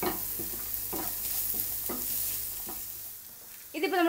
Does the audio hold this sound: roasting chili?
yes